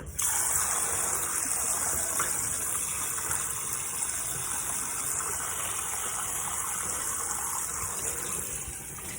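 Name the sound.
tap water running, rinsing raw chicken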